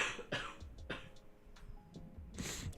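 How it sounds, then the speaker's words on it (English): Several short coughs from a person at a desk, spaced across a few seconds, close and moderately loud with a faint ticking in the quiet between them. "Gonna cough real quick."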